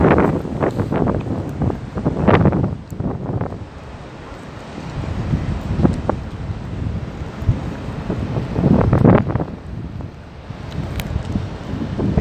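Gusty wind at an outdoor Moscow hotel complex on a cold day with light drizzle, buffeting the microphone in loud rumbling surges that rise and fall, with no speech.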